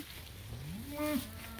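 Cattle in a herd being moved on a farm while hunters wait nearby; a single low, rising moo swells up and fades over a faint outdoor background.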